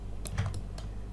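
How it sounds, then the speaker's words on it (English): Several quick, light key presses on a computer keyboard click close and clearly, spaced unevenly over a second with no talk. "you can press S on your keyboard to activate and deactivate the snap"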